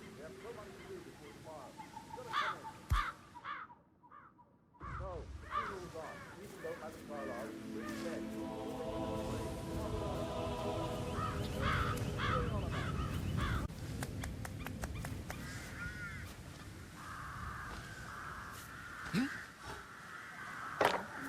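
Crows caw repeatedly around their nests in the video game Hitman 3, harsh calls scattered through a dense mix of game sound and ongoing talk, with a brief quiet gap early on.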